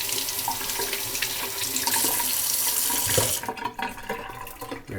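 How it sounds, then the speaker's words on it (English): Tap water running into a kitchen sink over tomatoes being washed for beef soup, a loud close gush for about three seconds, then softer splashing and handling as the flow changes. "So for the tomatoes, let's wash these down."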